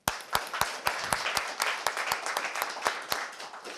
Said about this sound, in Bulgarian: аплодисменти за тях.